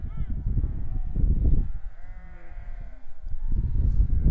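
Sheep bleat repeatedly at close range, several overlapping calls rising and falling, with a voice briefly in the background.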